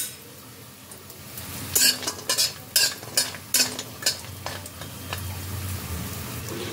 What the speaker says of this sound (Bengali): বড়িগুলোকে লাল লাল করে ভেজে নিতে হবে